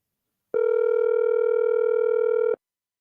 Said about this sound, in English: we're calling UNC activist Kingsley to find out what was the scenario